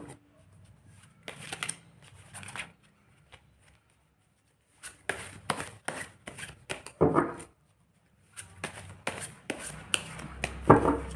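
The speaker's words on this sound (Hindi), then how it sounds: "मैं उनके लिए कार्ड निकाल रही हूँ।" Tarot cards are shuffled and drawn in bursts of crisp riffling and snapping, with pauses between and a sharper flurry of card slaps near the end, close and fairly quiet.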